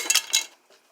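A Camillus knife handled out of a welding toolbag, two quick metallic clinks close by followed by a faint softer tap, then quiet.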